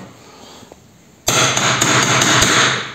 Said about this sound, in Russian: забиваю там куда надо и прям вот так и отрезаю прям вровень